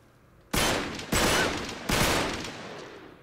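Three loud gunshots fired at a locked door in Uncharted 3: Drake's Deception, each a sharp blast with a long decaying echo, spaced about a second apart.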